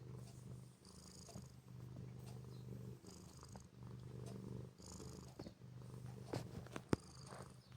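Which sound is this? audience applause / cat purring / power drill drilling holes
cat purring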